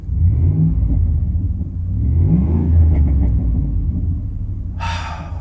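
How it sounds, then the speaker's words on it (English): A running truck idles with a deep, throaty exhaust rumble that swells slightly as the engine is blipped, loud and close, followed by a brief hiss near the end. "just admire the sound of that exhaust"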